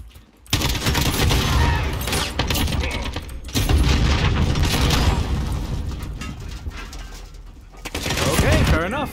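Rockets and gunfire go off in Call of Duty: Modern Warfare, loud booming explosions and rattling weapons in dense bursts, with a brief quiet gap at the start, followed by continuous battle noise.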